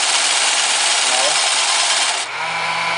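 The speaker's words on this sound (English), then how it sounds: "can hear that's the vacuum running" A Roomba robot vacuum runs its vacuum motor in diagnostic test mode, a loud steady high-pitched whine and airy roar held close up, with a slight drop in pitch near the end.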